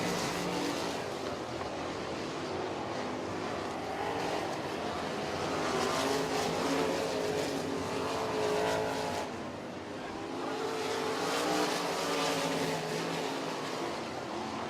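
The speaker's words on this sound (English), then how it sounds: "we've got some awfully fast cars going around some cars that are not at near the same speed" Racesaver sprint cars race around a dirt track, the fast ones lapping slower cars. A continuous roar of engines swells and fades as the cars pass, loud and fairly close, with no voices.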